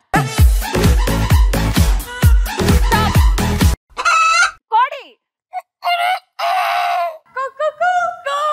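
A person imitates a rooster crowing with a loud, close vocal cock-a-doodle-doo and short clucking calls during a televised animal-sound game, following a burst of rhythmic music.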